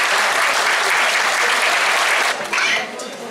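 Sustained audience applause greets guests at a folk cultural society performance evening in Ražanj, Serbia, a dense, loud wash of many hands that holds steady before thinning slightly near the end.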